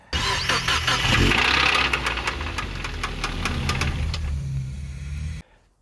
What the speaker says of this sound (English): it gives you an idea of how ropey the engine does sound at the moment